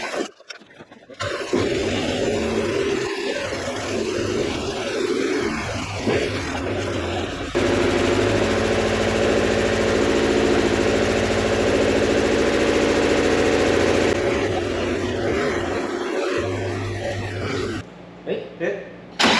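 A Volkswagen Scirocco show car's engine runs on choke, a close, steady mechanical drone that grows louder and fuller in the middle stretch, with voices talking over it at times.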